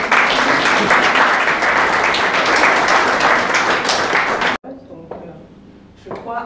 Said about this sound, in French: un applaudissement pour elle